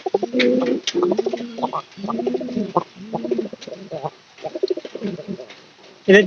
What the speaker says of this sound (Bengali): পায়রা ডাকটা দেখাই ভাই